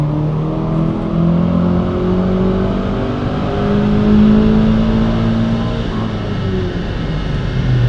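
A tuned car with a non-GPF Stage 3 setup accelerates hard under turbo boost, its engine droning loud and steady from close inside the cabin for the whole stretch, with rising and falling harmonics.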